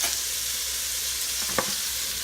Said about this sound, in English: I'm also going to add my carrots and my celery. I'm going to cook this down for a minute.